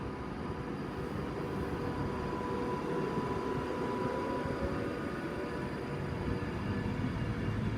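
A Class 390 Pendolino electric train departs Wigan North Western station at night, giving a steady, continuous low rumble and hum that holds at an even level throughout.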